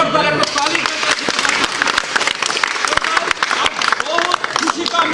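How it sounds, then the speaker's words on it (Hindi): An audience bursts into loud, continuous applause at a crowded corporate stage event, the dense clapping filling the whole clip with a voice audible over it. "मिस्टर को फाउंडर दीपक सूद सर का लिए जोरदार एक ताली।"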